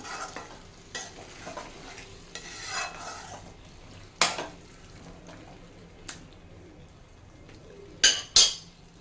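Ivy gourd curry being stirred in a pan, scattered spatula scrapes and soft sizzling, with a couple of sharp metallic clinks against the pan near the end, close and unaccompanied by speech.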